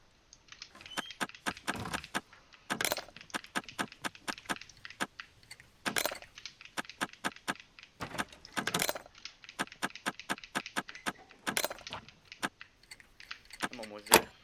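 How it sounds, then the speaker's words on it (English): Doors being lockpicked in the SCUM video game: bursts of quick metallic clicks and rattles, jangling like keys, come in clusters separated by short quiet gaps, fairly close and crisp. "He's just taking locks off of the doors."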